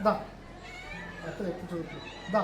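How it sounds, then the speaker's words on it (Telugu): Cats on a farm meow as they follow a man, several short, plaintive meows at moderate distance, mixed with a voice and outdoor background noise. "ఈయన ఎక్కడికి వెళ్తే ఆ పిల్లులు ఈయన వెనకాలే వస్తాయి"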